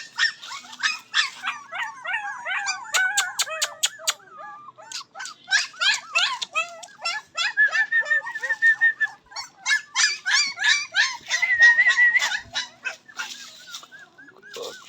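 Small dog yapping and whimpering nonstop, close and loud, with rapid high-pitched barks running into whiny cries and yelps, no talk over it.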